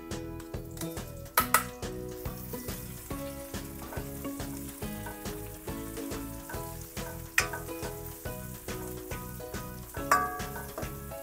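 Onion is sautéed with browned garlic in a pan for Kapampangan-style chicken, producing a moderate, steady sizzle with occasional sharp clinks of a utensil against the pan, under background music.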